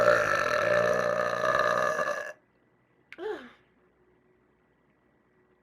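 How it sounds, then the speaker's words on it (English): A young woman lets out a long, loud, rumbling burp lasting about two seconds, then after a pause a second, much shorter and quieter belch, with silence around them. "Okay, I should stop burping now."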